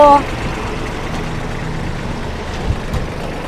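A Kubota B2140S tractor's PTO spins with a steady, continuous engine-and-driveline drone at moderate level, preceded by a brief voice at the very start.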